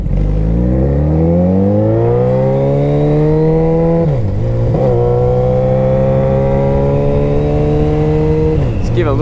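A Suzuki Hayabusa motorcycle engine warms up loud and close. Its idle climbs steadily, settles into a smooth drone and is blipped a few times with short revs.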